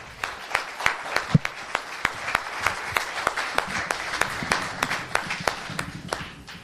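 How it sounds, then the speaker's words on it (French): Audience applause for a child contestant at a departmental reading competition final: steady, rhythmic clapping of a modest crowd that keeps an even pace throughout. "Et on peut l'applaudir bien fort."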